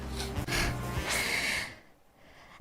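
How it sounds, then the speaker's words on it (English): A person sneezes: quick gasping inhales build up, then a sharp, breathy burst close to the microphone, followed by near silence. "I'm gonna sneeze."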